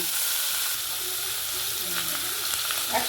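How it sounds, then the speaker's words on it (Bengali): Chopped onion frying in oil after cardamom and cloves, a loud, dense, continuous sizzle close up with faint stirring scrapes underneath. "পেঁয়াজটা এবার লাল করে ভেজে নিচ্ছি"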